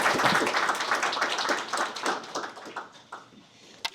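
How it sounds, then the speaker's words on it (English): A room of attendees gives a round of applause at a policy launch event; close, dense clapping starts strong and then fades, with a few last scattered claps trailing off. "If you can join me in giving a round of applause to Mark."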